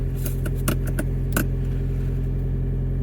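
A Toyota Prius engine runs, heard from inside the car with the windows up: a low steady hum and rumble throughout, with a few brief faint clicks or rattles early on.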